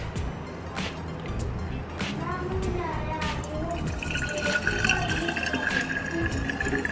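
Water being poured into the tank of a Morphy Richards coffee maker, a gurgling, splashing trickle that grows fuller and rises in pitch as the container fills, close by, with a voice briefly speaking under it.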